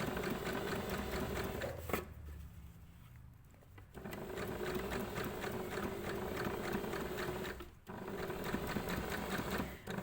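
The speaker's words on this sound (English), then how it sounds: "I'm going to do teeny tiny reverse stitch" A sewing machine stitches appliqué onto a fabric pencil case, running in a steady, close, rhythmic whir that pauses briefly twice before starting again.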